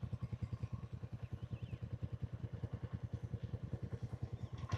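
Three motorcycles idle after a cold start in the mountains on the road from Gunji toward Adi Kailash. Their engines produce a steady, even, rapid thumping rhythm that is moderately close and runs without talk.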